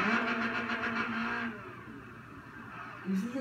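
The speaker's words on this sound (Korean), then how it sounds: "엑셀 톡톡톡 쳐보세요." A car engine revs in short bursts as the accelerator is tapped while reversing, a mid-pitched hum that rises and eases, then lifts again at the end, with voices talking alongside.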